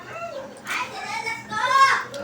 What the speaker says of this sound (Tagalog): Gutom na yung mga aso.